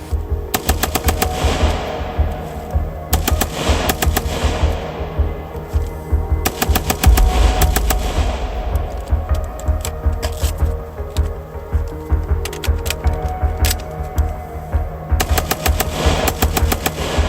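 Rapid strings of rifle shots fire from a TRIAD modular bullpup chassis, loud sharp cracks in several quick bursts separated by short pauses, with outdoor echo trailing each volley.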